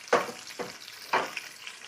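Potatoes sautéing in bacon grease in a pan, with three distinct stirring scrapes and sizzling bursts about half a second apart over a faint steady sizzle, close up and with no talking.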